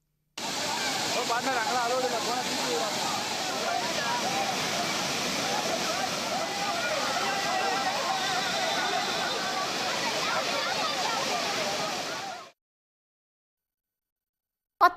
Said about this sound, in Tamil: சுற்றுலா பயணிகள் அதிகாலை முதலே ஆர்ப்பரித்து கொட்டும் அருவி முன்பு திரண்டு உற்சாக குளியலிட்டு பொழுதை கழித்தனர்